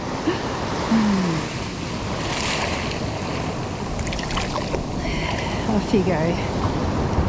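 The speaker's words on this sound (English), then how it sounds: "those waves, they're just racing." Waves race and break onto Coles Point Beach in South Australia, a constant wash of surf and wind noise close by, with someone speaking briefly over it.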